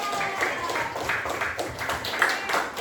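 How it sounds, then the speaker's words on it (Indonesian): Children clap together in a steady, rhythmic pattern during a village group activity, the claps continuous and moderately close throughout. "Oke, tepuk tangan buat Alga."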